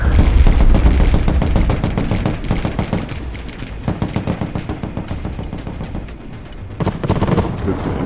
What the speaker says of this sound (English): Drop some artillery on him.